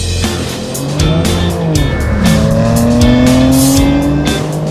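A car in Sport Plus mode revs hard with its engine rising and falling while the tires squeal loudly, the sound close and continuous for several seconds.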